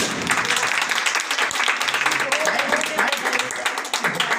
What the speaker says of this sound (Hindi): तमाम बच्चों के लिए जिन्होंने आज परफॉर्म किया है, हम इनके लिए जोरदार तालियां बजाएंगे